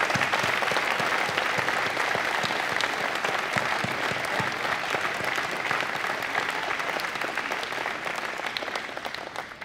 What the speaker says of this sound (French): Et ça mérite un tonnerre d'applaudissements.